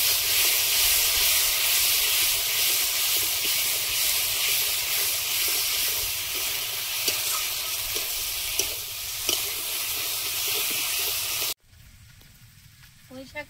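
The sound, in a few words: taro frying with ground spice paste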